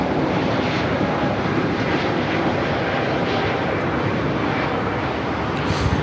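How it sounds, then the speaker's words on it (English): A Spirit Airlines Airbus A320neo takes off at Los Angeles airport, a loud, sustained broadband engine roar holding steady throughout at close range. "2456 taking off to Dallas Fort Worth on the A320neo"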